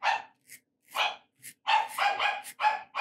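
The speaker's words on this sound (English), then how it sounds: "I'm all distracted because the dog barking" A dog barks repeatedly in a quiet room, a run of sharp, close barks in uneven bursts with short gaps between them and no one speaking.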